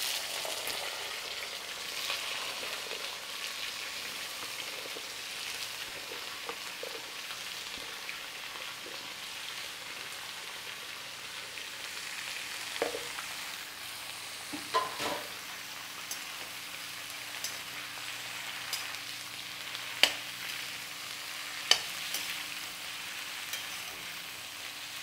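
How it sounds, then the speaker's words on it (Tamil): Eggplant slices frying in a pan after urad dal has turned red, a soft continuous sizzle with occasional sharp clicks and scrapes of stirring, fairly quiet and without talk. "இப்போ கத்திரிக்காய் போட்டுடலாம்."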